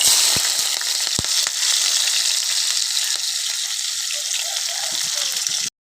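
Onions dropped into hot oil, a loud, dense, steady frying hiss with a few sharp crackles near the start, continuous until it cuts off abruptly.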